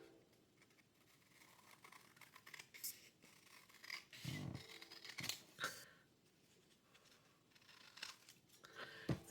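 Scissors cutting paper in a craft setting, a quiet run of snips and rustles with a few louder crisp cuts partway through, close and steady with no talking.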